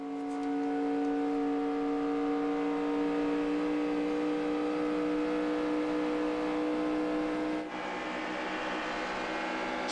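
A pack of stock cars roars steadily at the start of the 2009 Aaron's 499 at Talladega, engines droning continuously at high speed down the back straightaway, loud and sustained without a break.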